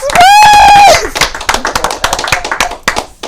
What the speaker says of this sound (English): We gotta clap it up for Bruce.